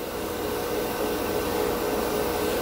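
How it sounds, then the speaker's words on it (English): Airbrush air at about 15 PSI blows steadily on a spoon painted with hobby flat black paint to flash dry it. A close, continuous hiss runs the whole time with no pauses. "I'm going to use my flash dry technique of blowing the airbrush air directly on the spoon to dry the paint off."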